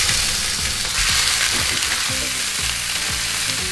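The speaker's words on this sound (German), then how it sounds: "Ich habe jetzt hier unsere Pfanne süttig heiß erhitzt und tue unsere tight gerollten Rouladen hier rein." Tightly rolled beef roulades searing in a very hot frying pan, a continuous bright sizzle and crackle with occasional spatter and shifting of the meat, close up and steady.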